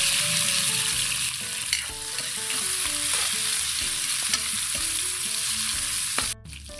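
Garlic, onion and tomato sauté in a pan for sinigang na bangus, a dense steady sizzle close up that cuts off abruptly near the end, with faint melodic tones running underneath.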